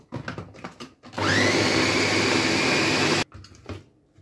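A food processor whirs loudly and steadily for about two seconds while mincing chicken marinade ingredients, including oil and salt. Quieter clattering and handling noises come just before and just after the motor runs.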